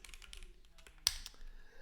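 Rapid keystrokes on a computer keyboard, close and fairly quiet, with one sharper key strike partway through a steady run of clicky typing.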